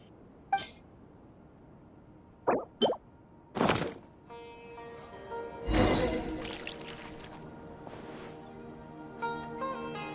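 Water poured in the Genshin Impact game during a Caribert story scene: a few short plops and clinks, then a brief splashing pour under light game music, with no one speaking.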